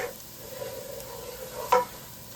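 Rice for shrimp risotto toasts in a pan with a soft, steady sizzle and gentle stirring scrapes, ending in one louder scrape of the spoon.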